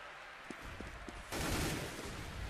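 Gunfire in CS:GO during a DreamHack Winter 2013 match on Mirage, a few faint distant shots followed by a louder, sustained burst of rapid fire toward the end.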